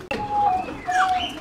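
A flock of pigeons cooing close by in a short burst of soft, repeated throaty calls, with no voices over them.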